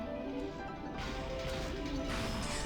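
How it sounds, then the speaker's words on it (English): Smashing and crushing effects in the Umineko visual novel, a dense continuous layer of crashes and thuds that builds louder toward the end, with no voices. "The mansion was filled with the sounds of knocking, crushing, smashing, chewing."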